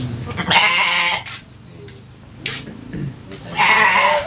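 Garut cross sheep and goats bleating on a farm, with three loud, wavering bleats spaced out over the clip and quieter farm noise between them.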